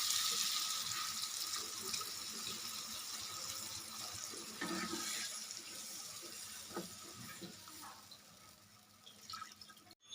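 Water goes into a pan of simmering boal fish curry in steady trickling and splashing, fairly quiet and continuous for about ten seconds, ending with a short knock.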